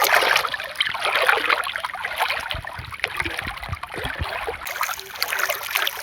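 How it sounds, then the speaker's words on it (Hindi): Water gurgles and trickles steadily into a flooded rice paddy field being filled for transplanting, a continuous close splashing flow with no voices. "तो अभी यहाँ पे पानी भरा जा रहा है"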